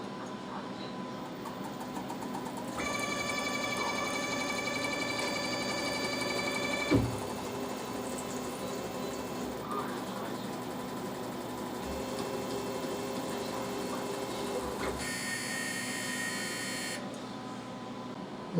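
A VFD-driven spindle on a homemade CNC machine, testing a tap holder with a clutch, whines steadily as it spins up and stops, with a low mechanical hum throughout, a clunk at the midpoint and a second higher-pitched run near the end.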